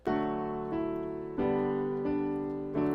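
Sustained chords ring out one after another, each struck and held for under a second before the next begins, steady and bright.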